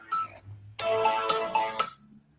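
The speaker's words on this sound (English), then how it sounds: "Oh, I've got a phone call." A mobile phone ringtone plays in short bursts, a melodic electronic tune that stops and starts again, fairly loud and close, with no talking over it.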